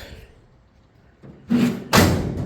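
The door of a Model A rat rod body, freshly mounted on its chassis, is shut twice in quick succession, two sharp close metallic slams after a quiet moment.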